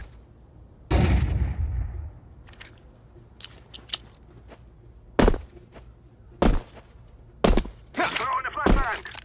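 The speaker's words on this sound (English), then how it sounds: "I'm throwing a flashbang." A flashbang grenade thrown in the game Counter-Strike 2: a sharp blast with a decaying tail, followed by several separate short loud pops and clicks spread over the following seconds.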